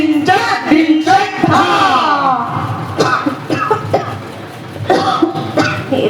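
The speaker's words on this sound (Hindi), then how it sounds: "ये खांसी मेरी जान लेकर छोड़ेगी" A harsh fit of coughing, several rough bursts in a row with strained, throaty vocal sounds between them, close and loud.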